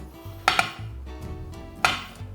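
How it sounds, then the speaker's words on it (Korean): A knife slices vertically across the grain of beef brisket, giving a few sharp clicks against the board amid soft, low handling noise, close and without talk. "이 결을 끊어 준다고 생각을 하시고 이렇게 수직으로 썰어 주세요."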